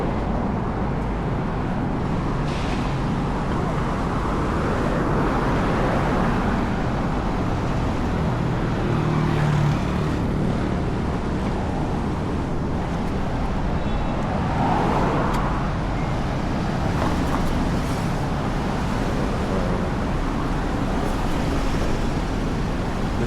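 Busy street traffic in Kuala Lumpur, including a bus, makes a loud, unbroken roar of engines and tyres close by with passing vehicles swelling and fading.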